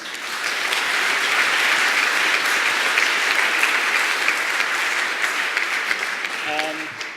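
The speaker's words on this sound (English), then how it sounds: "Big round of applause for Grant, please" Sustained audience applause at a Python conference lightning-talk session, a broad wash of many hands clapping that swells quickly, holds steady and begins to fade at the end.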